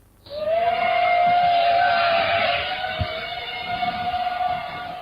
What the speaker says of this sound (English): then you will hear the hum of drones in the sky